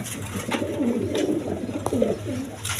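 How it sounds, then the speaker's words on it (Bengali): A pair of red pigeons cooing close by, a soft low rolling coo repeating several times in a row over faint background noise. "এখানে এক পেয়ার কবুতর আছে দেখেন এটা রেড কালার"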